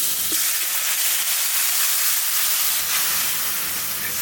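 Taro curry frying in hot oil with salt, garlic paste, coriander, cumin, turmeric and chili powder, giving a steady, loud hiss and sizzle that runs evenly throughout without any talk.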